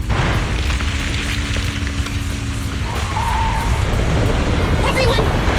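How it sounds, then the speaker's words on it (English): In the Zenless Zone Zero video game, a heavy ground-shaking rumble and crash fill the scene with a dense, loud, continuous low roar and booming impact, with character voices over it. "The ground's shaking!"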